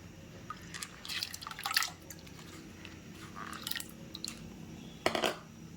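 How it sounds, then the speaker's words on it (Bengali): Water is poured and dribbled into sattu to make a smoothie paste, giving quiet intermittent drips and wet squishy stirring sounds close by, with no talking. "দেখো একটু জল অ্যাড করে দিচ্ছি, একটা পেস্ট বানিয়ে নেব।"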